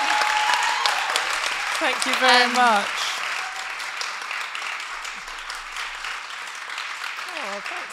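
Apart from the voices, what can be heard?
audience applause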